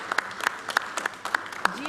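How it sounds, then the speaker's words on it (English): Scattered clapping from a modest audience at an annual general meeting and conference, a thin, uneven patter of individual claps rather than a full ovation. "Let's give him an applause."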